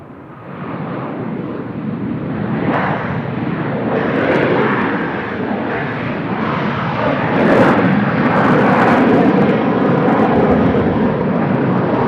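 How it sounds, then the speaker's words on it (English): An Asiana Airlines Airbus A380 departs Seoul Incheon Airport, its engines roaring steadily with broadband rumble that swells toward the middle and end, distant wind-buffeted jet thunder without talk. "hopefully we will see a nice sporty departure from the Asiana A380"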